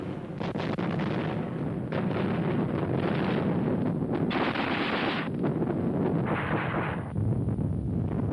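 German 20mm, 37mm and 88mm flak guns fire together in rapid, overlapping bursts of booms and cracks, a dense, continuous barrage heard on an old wartime recording.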